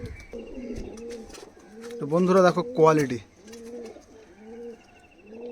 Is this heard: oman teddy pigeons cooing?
yes